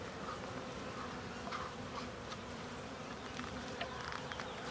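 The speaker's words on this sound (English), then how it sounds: "See, the bees are really interested in me." Honeybees drone and hum steadily around a beekeeper feeding them syrup, a continuous faint buzz with occasional louder passes of individual bees nearby.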